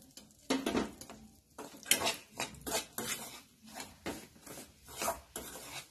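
A spatula scrapes and breaks up lumps of gram flour roasting in ghee in a pan for rava besan barfi, about eight close, rhythmic rasping strokes with metallic pan contact and no talk.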